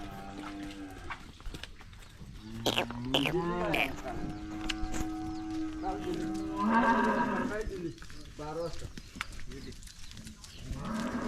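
Cows being led out of a cowshed to be taken to the Konkan region moo loudly and close by, with several long, drawn-out calls while people talk in the background.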